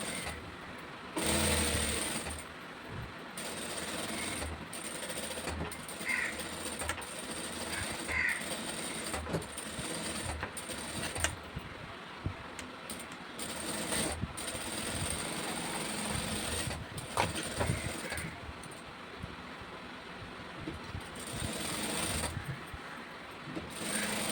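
A sewing machine stitches a blouse, running in a steady continuous drone with short pauses and restarts, mechanical whir carrying on alone without any voices.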